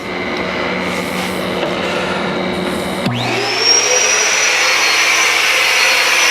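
A Fuji HVLP paint sprayer turbine switches on partway through and spins up into a loud, steady whine that holds close and constant over the background hum.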